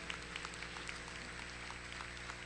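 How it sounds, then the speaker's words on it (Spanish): Congregation applauding in a church service, a continuous distant wash of many hands clapping, fairly faint and even, blended with room noise and a steady low hum. "Denle un fuerte aplauso al Señor."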